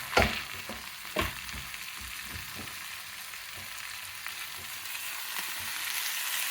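Green and dried chillies frying in oil for dondakaya pachadi, a soft steady sizzle with a few sharp clacks of stirring near the start, close by and without talk.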